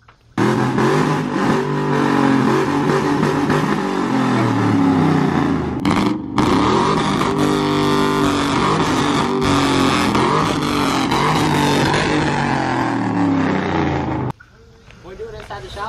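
Stock turbo 5.3 LS V8 swapped into an Infiniti, revving hard and steadily, loud and close, holding high rpm for most of the time before dropping back to idle.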